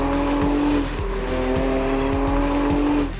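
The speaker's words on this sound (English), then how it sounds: "my favorite modification of them all is the rear exhaust" Toyota Camry TRD with its dual rear exhaust revs in a steady, loud, buzzy drone with sustained harmonics, briefly dipping and rising again, no voices.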